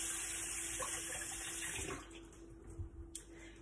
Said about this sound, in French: je vais rincer les mains